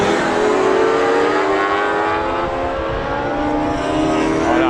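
A race car roars past at the Croix en Ternois circuit during a Promosport race, a loud, sustained engine howl close by that holds steady for several seconds.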